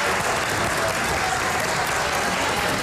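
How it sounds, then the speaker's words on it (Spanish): Court staff applaud the returning president of Ecuador's National Court of Justice, Iván Saquicela, a dense, steady burst of clapping from a sizable indoor group, loud and continuous throughout with a faint crowd murmur. "Personal de la entidad lo recibió entre aplausos."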